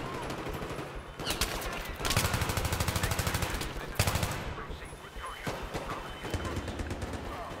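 Rapid bursts of video game gunfire crackle in dense automatic volleys, broken by brief pauses, with a player talking over the shooting.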